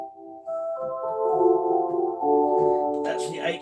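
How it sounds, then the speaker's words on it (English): Electronic organ playing a flute stop with 8 and 16 foot ranks together: sustained, soft chords shifting through several changes, rising in brightness near the end, with no talking over it. "This is the flute sound."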